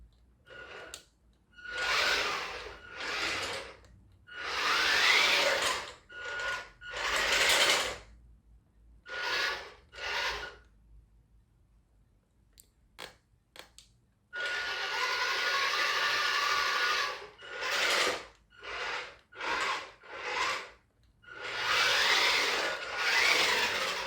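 Part of a hobby-grade Nikko VelociTrax RC car being trimmed by hand: close, repeated rasping strokes in short bursts, a quiet pause, then a longer steady scraping run followed by more quick strokes.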